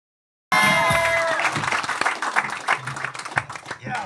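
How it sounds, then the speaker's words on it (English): Comedy show audience bursting into applause and cheers as a comedian is introduced, loud at first and then thinning into scattered claps with a few voices in the crowd. "Clap your hands for Matt McCusker."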